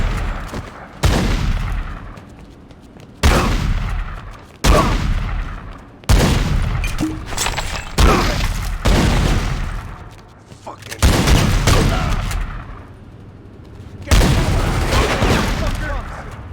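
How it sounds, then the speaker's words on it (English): A gunfight in The Godfather 2 video game: repeated loud bursts of gunfire and booming shots arrive in clusters every few seconds, close and heavy, with a voice talking between the volleys. "You wanted a gunfight, you got a gunfight."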